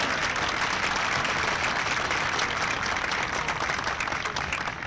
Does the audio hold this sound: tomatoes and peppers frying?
no